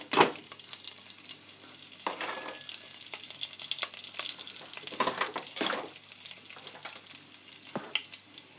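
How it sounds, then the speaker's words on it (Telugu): Steady crackling sizzle of mustard seeds, cumin and urad dal frying in hot oil, continuous and close, with occasional louder pops and spoon scrapes. "అది ఇలా ఫ్రై అవుతుండగా"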